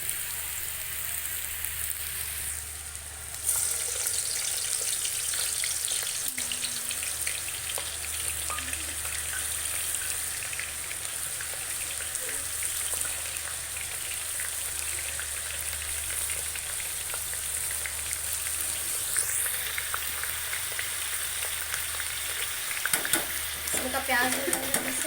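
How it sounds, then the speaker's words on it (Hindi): Paneer fries in oil, a long even sizzle that holds close and steady throughout, with a few faint clatters of a utensil toward the end. "तक ये हमारा पनीर भुनेगा"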